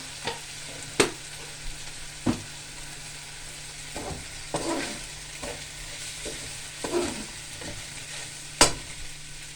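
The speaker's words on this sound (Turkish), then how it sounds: "Sıvı yağla kızarttım şehriyeyi." Vermicelli frying in vegetable oil with a knob of butter in a home kitchen, with a steady close sizzle broken by sharp spoon scrapes and clinks while it is stirred every second or two.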